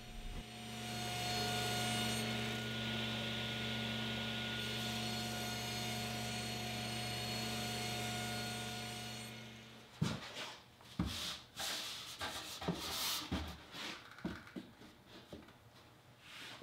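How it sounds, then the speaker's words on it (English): A saw hums steadily while trimming the back of a wooden beadboard panel to fit a cabinet. It winds down after about nine seconds, and close wooden knocks, scrapes and handling sounds follow. "Now I can trim the back to fit the cabinet."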